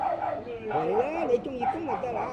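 A small puppy at an early-morning street market in Sanshui, Foshan yips and whimpers in quick, high-pitched bursts close by, while vendors and shoppers talk over it.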